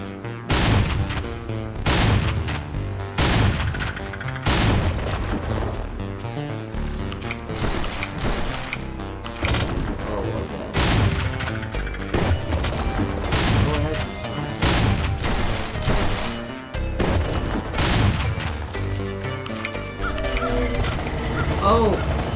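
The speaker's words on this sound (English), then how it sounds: "We'll try a shotgun though." Shotgun blasts in a PC action game, repeated loud booming shots over busy game music and effects, with a player talking throughout.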